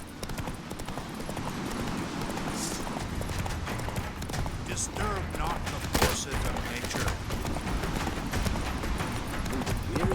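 Roach, the horse in The Witcher 3 video game, gallops at a steady clip-clop under a game voice speaking, with scattered clashes and effects layered through the busy mix.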